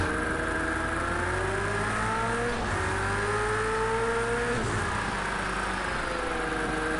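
A GT3 race car engine in Project Cars 2 on wet tires drones steadily throughout, pitch climbing and dropping through gear changes with a brief dip near the middle, loud and up close with no voices.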